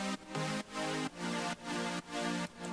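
A French house chord pattern from music production software: bright, sustained synth chords repeat in an even, pulsing rhythm, with short dips between stabs, clear and alone.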